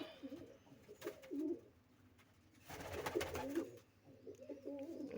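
Pigeons coo in soft, low, rolling bursts, two or three calls close by with quiet pauses between.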